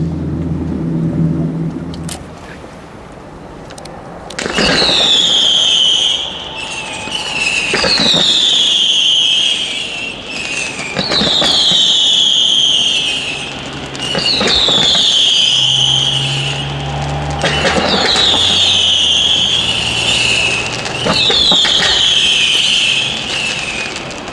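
Fireworks simulating a fortress siege at the Grand Feu de Saint-Cloud burst repeatedly, each with a sharp crack followed by a whistling, crackling tail, loud and close, several explosions spaced a few seconds apart.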